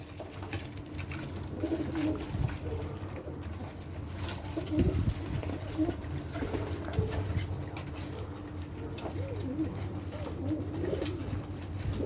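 Pigeons coo softly and repeatedly nearby while drinking from a waterer, over a low, steady background murmur, with occasional light patters and rustles.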